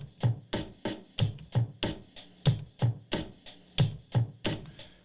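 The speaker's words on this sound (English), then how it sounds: "With the hi-hat, the kick, and flipping the snares, I made the beat my own." A hip-hop drum beat programmed on an SP-1200 sampler plays alone, with kick, hi-hat and snare hits repeating in a steady, punchy loop at a moderate tempo.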